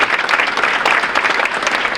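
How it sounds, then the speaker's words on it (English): A school crowd at a fall varsity sports awards event gives a round of applause for the coaches, a loud, dense clatter of many hands clapping that continues steadily throughout. "So a round of applause for our coaches for leading our program this fall."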